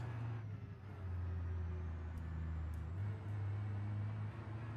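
A truck engine in the BeamNG driving game holds a steady low drone that climbs in pitch, dips, then rises again, loud and continuous with no talk.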